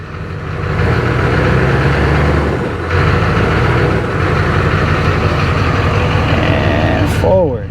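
A 2004 GMC 3500 Duramax diesel pickup rumbles loud and close, its engine swelling through a couple of revs over a steady idle, with a brief dip midway and a short whine near the end.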